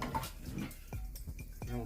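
Close clanks and clinks of a cast-iron skillet being handled and lifted out of a vinegar soak, a few short metallic knocks with faint liquid sounds and a low murmur beneath.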